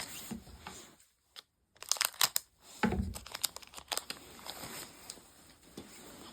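Tarkir Dragonstorm collector booster pack wrapper being torn open, with crisp crinkling and tearing bursts separated by a short pause, close and fairly loud.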